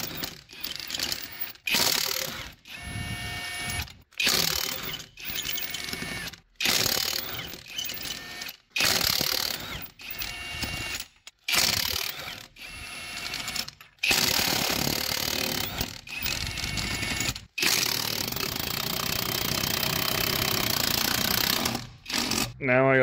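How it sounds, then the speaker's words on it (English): A 1/2-inch impact gun spins lug nuts off a 2012 Chevrolet Silverado 2500HD wheel, loud rattling bursts of hammering that start and stop repeatedly, with longer sustained runs near the end and some talking between them. "I got it on my 1/2-inch impact gun, and we're gonna go ahead and take them off"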